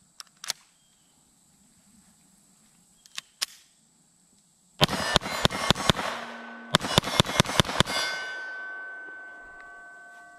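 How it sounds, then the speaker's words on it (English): A Beretta 81 pistol in .32 fires at an outdoor range from about 7 yards: a few scattered shots, then two rapid strings of sharp cracks with ringing steel, fairly near. "We're going to take some shots with the Beretta 81."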